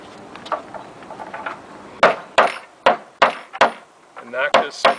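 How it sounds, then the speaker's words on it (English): A mallet knocks a part of an entertainment center into place during furniture assembly: after a stretch of talking, about seven sharp, loud wooden knocks land in an uneven rhythm, close up. "we're going to have to take the hammer, the mallet,"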